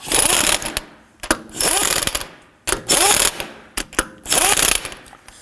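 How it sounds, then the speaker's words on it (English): Lug nuts on a 2005-2009 Subaru Legacy wheel being gently snugged in a crisscross pattern with a ratcheting tool, four loud bursts of rapid mechanical clicking and whirring separated by brief pauses. "We just want to gently snug these. Do this in a crisscross or star pattern."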